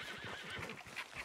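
A horse in the game Red Dead Redemption 2 gives a short, close whinny with a few snorting breaths.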